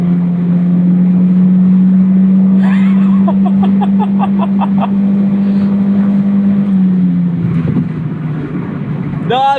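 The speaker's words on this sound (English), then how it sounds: "Not the best sounding Honda naturally aspirated 4-cylinder" A Honda CR-Z with a naturally aspirated four-cylinder engine drones steadily from inside the cabin while driving, a flat, vacuum-like hum that dips near the end, with a voice speaking briefly partway through.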